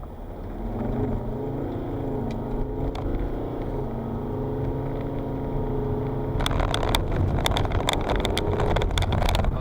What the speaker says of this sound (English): And let's do another acceleration here.